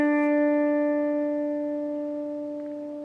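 A single sustained electric guitar note rings out with reverb, the tone holding clear and slowly fading.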